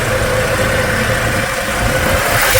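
A 2.6-liter Mitsubishi four-cylinder, eight-valve engine without turbo in a 1985 Dodge Ram 50 pickup runs steadily at idle, a close, constant low rumble with no talk.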